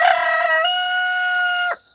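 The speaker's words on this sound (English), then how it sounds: "that rooster crowing so loud right next to us" A rooster crows very loudly right nearby: one long, sustained cock-a-doodle-doo held steady before cutting off abruptly, with no talking over it.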